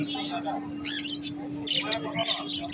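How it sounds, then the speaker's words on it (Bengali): Bengalese finches chirp and squawk in quick, busy bursts close by at a bird market, with a steady electrical hum underneath and voices mixed in. "এটা বেঙ্গলি পিচ। হ্যাঁ, বেঙ্গলি পিচ।"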